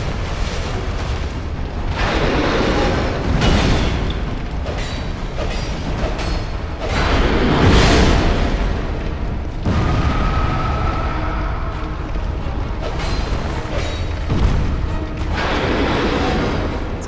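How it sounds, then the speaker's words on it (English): Explosions in the video game SystemSouls 2 make a dense run of loud, rumbling booms and bursts, one after another for the whole stretch, with steady game noise beneath and no voices. "That's another explosion."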